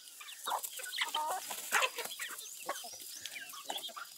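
Hens and young chickens cluck and chirp on a farm at feeding time, with a close, busy flurry of overlapping clucks throughout and no talking.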